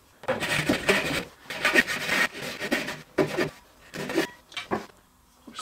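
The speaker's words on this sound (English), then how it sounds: "I'll grab a ripping saw and we'll just take this chunk out" A ripping saw cuts through a clamped chunk of wood for a bottle opener in rhythmic rasping strokes, about a dozen back-and-forth pushes, close and fairly loud with no talk.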